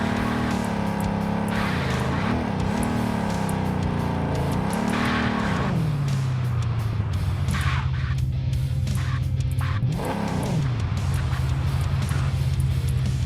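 An engine revs and shifts gears in the Underground Garage driving game, with swooping pitch rises and falls as the car accelerates, slides and corners, and tires squeal loudly throughout.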